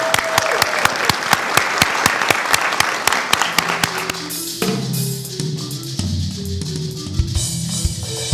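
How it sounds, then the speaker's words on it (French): An audience claps for a fashion show by designer Mireille Nzoubou, starting with loud, rapid, sharp clapping that thins out after a few seconds as a low musical drone comes in underneath. "j'aimerais que tous ici, on applaudisse pour ce défilé que nous allons assister"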